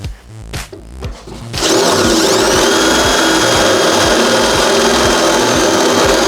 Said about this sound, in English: So I'm going to drill it out with a 10mm drill bit and then attack it with a welder.